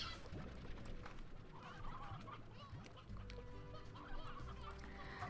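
Chickens cluck and chatter continuously in a video game, several birds overlapping in a busy, moderately loud flock with a few sharper calls.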